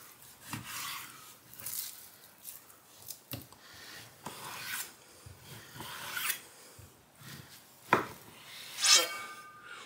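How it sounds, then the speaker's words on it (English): A knife cuts meat into chunks for grinding into Cajun andouille sausage, with soft irregular slicing and rubbing sounds, occasional knocks on a board, and a faint clink near the end, close and quiet. "Now I'll cut these both into chunks that are suitable for the grinder"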